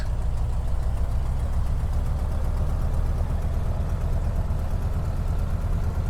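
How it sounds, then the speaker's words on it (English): A Beechcraft 17 Staggerwing's radial engine idles at a steady low RPM in Microsoft Flight Simulator 2020, a constant, loud, deep drone with an even throb and no change throughout. "Looks like we are idling around 650 RPM, which is very reasonable"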